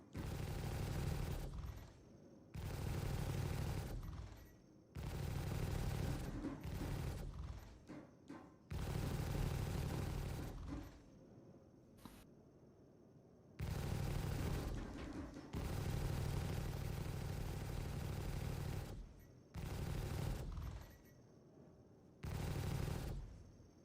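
Turret gunfire in a space video game comes in repeated heavy bursts of rapid fire, each lasting one to three seconds and separated by short quiet gaps, loud and close, with no voices.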